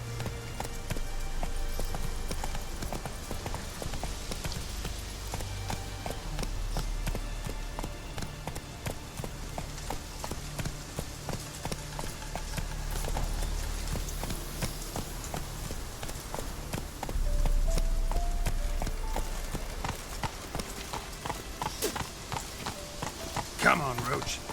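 Roach the horse gallops through Redania in The Witcher 3, hooves clip-clopping in a steady rhythm under game music and ambience. A voice speaks at times over the hoofbeats.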